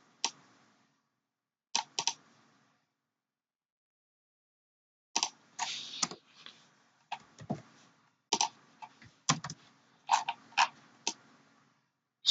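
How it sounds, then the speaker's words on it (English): Computer keyboard keys are pressed in scattered clicks, first singly, then in quicker irregular bursts, crisp and close in a quiet room. "the buttons I'm pressing on the keyboard"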